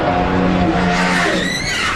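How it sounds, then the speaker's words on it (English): A NASCAR race car spins out in the turns with a loud tire screech and roaring engine, sliding close by before the sound shifts as it nears the wall. "Nemechek spins it in turns 3 and 4. It slams the outside wall."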